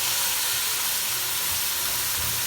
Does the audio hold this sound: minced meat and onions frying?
yes